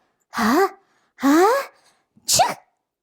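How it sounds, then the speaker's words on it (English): A voice acts out a sneeze: two drawn-out, rising gasping breaths, then a short sharp burst, close and loud. "I can even catch a sneeze."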